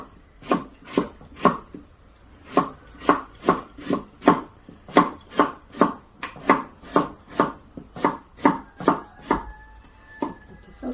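A knife chops a radish into thin flat slices for Korean nabak water kimchi, sharp regular strikes on a cutting board in a steady rhythm of about two per second, close and clear with no talk.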